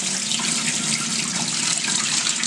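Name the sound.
water poured from pitcher into sink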